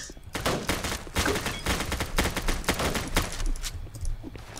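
Rapid sniper and gun fire in a Roblox game with police, a dense run of sharp cracks and shots that fills the whole stretch without clear gaps.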